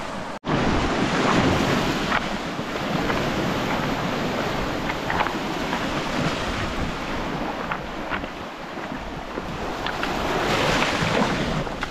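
Waves wash over a rocky shore, a loud, continuous rushing surf close by, with wind buffeting the microphone throughout.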